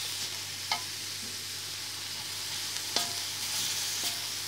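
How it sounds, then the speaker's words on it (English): Baby octopus stir-frying in a hot wok for a teriyaki sauce dish: a constant close sizzle with a few sharp scrapes and clacks of stirring, no voices. "put baby octopus into the wok, not too long."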